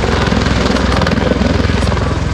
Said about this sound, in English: Here's a vertical takeoff.